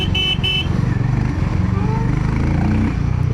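A Harley-Davidson X440 motorcycle rides nimbly through city traffic, its engine a steady loud drone with other vehicles around; short horn toots sound near the start, and a voice is faintly present.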